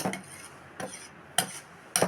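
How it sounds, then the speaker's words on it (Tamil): Flour dough stirred in hot ghee, heard as four sharp scraping clanks of a utensil against a pan at uneven intervals, close and fairly loud. "நெய்யில் விட்டு நல்லா கிண்டுறோம்."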